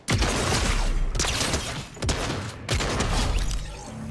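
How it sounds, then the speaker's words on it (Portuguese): Sustained gunfire in Fortnite as an enemy shoots from below, dense bursts of shots forming a loud, continuous barrage with brief dips around two and a half seconds. "o cara tá atirando aqui de baixo"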